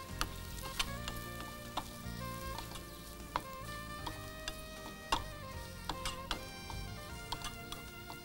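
Okra and grated coconut fry in a pan over reduced heat, a soft continuous sizzle with scattered sharp ticks and clicks from stirring, fairly quiet throughout.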